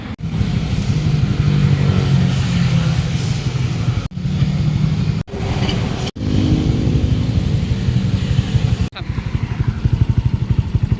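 Honda Click 150i scooter engine with a newly fitted aftermarket exhaust pipe, idling and being revved in loud close bursts, its throaty drone cut by several abrupt pauses and restarts.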